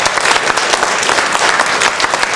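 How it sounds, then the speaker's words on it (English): An audience at an agricultural research forum applauds, a steady, dense wash of clapping from a crowded room, heard alone. "let's give a round of applause"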